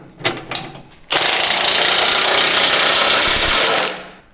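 A few clicks and taps, then a loud, sustained rattling buzz of a power tool running for about two and a half seconds while tightening a bolt with a 21mm socket on a steel skid plate under a Jeep JL Wrangler.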